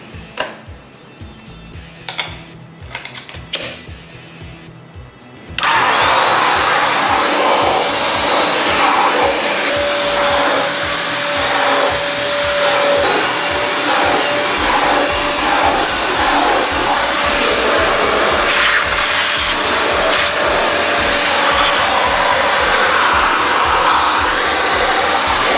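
A Eureka EasyClean corded hand-held vacuum starts up after a few seconds of scattered clunks and handling noise, then runs as a loud, steady whining roar with slight variations as it moves.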